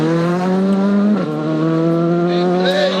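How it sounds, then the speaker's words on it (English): WRC2 rally car driving hard on a gravel stage at Rally Mexico, a loud, close, high-revving engine holding a steady tone, with a quick drop in pitch at a gear change partway through. "here goes Peru's Nicholas Fuchs in WRC2."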